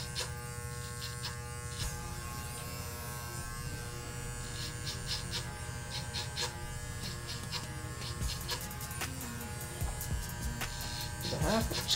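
Electric hair clippers buzz steadily through an undercut haircut, a close continuous motor drone with faint clicks and light handling noise, growing slightly louder near the end.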